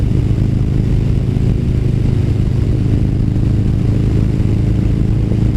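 A sports bike engine rumbling loud and close at road speed as the rider downshifts for a curve, a continuous low drone with wind noise and no pauses.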